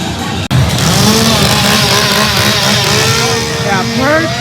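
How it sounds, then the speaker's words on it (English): Several chainsaws rev loudly and continuously in a Halloween Horror Nights scare zone at Universal Studios Hollywood, a dense snarling engine roar that never drops. A brief cut near the start breaks it. "there's just a bunch of chainsaws going off right now"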